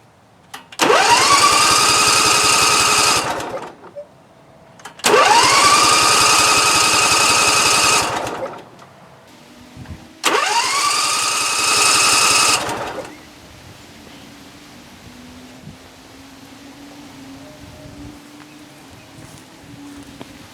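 The small engine of a Great Dane Super Surfer mower cranks with its cylinders opened, three loud buzzing bursts of about three seconds each separated by short pauses, leaving only a faint low hum afterward.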